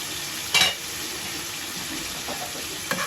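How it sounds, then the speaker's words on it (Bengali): Fish sautés with garlic in a pan, a soft continuous sizzle with a couple of brief clatters from a spatula or pan, moderately close and fairly quiet, no talking. "মাছটা ভালোভাবে কষিয়ে নিই"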